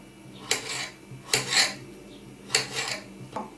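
Four sharp, scraping knife cuts through potatoes on a board, spaced irregularly, close and moderately loud, with no talking.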